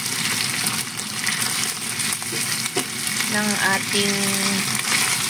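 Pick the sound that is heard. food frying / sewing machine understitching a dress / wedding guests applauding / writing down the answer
food frying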